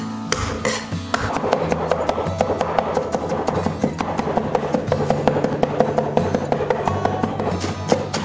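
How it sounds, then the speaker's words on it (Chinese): Garlic cloves smashed and minced with a knife on a cutting board, a dense run of quick, even chopping taps that carries on steadily throughout at close range. "大蒜拍碎，然后切成末"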